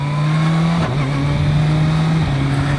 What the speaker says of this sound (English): Y'all can hear there's no backfire at all with this stock exhaust.